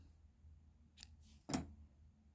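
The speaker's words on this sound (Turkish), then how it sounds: "Şimdi bu ucunu keseceğim makasla ve bitmiş olacak çiçeğim." Scissors snip through the yarn end of a finished crochet tulip, a single crisp close cut after a softer rustle, with no talking.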